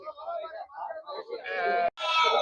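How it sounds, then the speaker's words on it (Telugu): Someone speaks briefly, then a couple of sheep bleat loudly and close by, one right after the other, at a sheep market in Gudur. "వేత గొర్రెలే"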